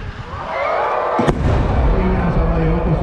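A large chrysanthemum aerial firework shell cracks out about halfway through at the Nagashima Onsen fireworks, over a steady roaring crowd-like rumble, with a deep booming tail that lingers.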